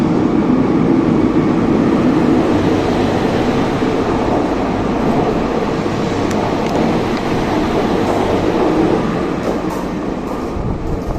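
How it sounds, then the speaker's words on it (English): A train pulls into a grim-looking station in a steady, dense roar of wheels and rumble that fills the whole span, loud and continuous, tapering slightly toward the end. "here comes the train"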